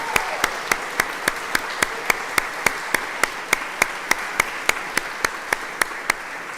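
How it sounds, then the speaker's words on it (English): A college audience applauds for its president at a State of the College address. A dense wash of clapping runs throughout, with a sharp, evenly spaced beat of claps keeping a steady rhythm on top. "Can we do another round of applause for our wonderful president, Dr. Laura Crawley?"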